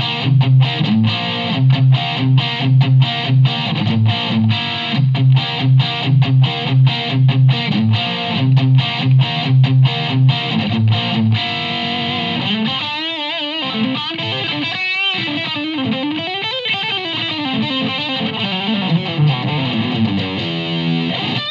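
Electric guitar patch run through a Helix modeler into a Mission Gemini 2 FRFR speaker, heavily distorted with effects, playing a rhythmic chugging riff before sustained bending lead notes, loud and alone.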